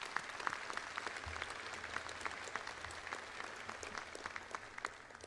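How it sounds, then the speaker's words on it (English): A university commencement audience applauds military service members, a spread-out crowd clapping with distinct individual claps audible throughout, moderately distant in a large venue, with a brief low rumble early on. "So how about a round of applause for those who've served?"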